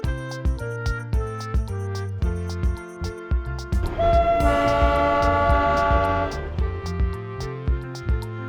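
The Darjeeling Himalayan Railway narrow-gauge toy train runs between Darjeeling and Kurseong with a rhythmic, pulsing chug. A long, loud horn blast sounds midway, then the steady beat resumes.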